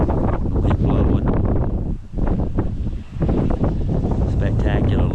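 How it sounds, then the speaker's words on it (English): Wind blowing across a West Virginia hilltop overlook, a steady broadband rush buffeting the microphone, loud and continuous with two brief lulls. "the wind blowing"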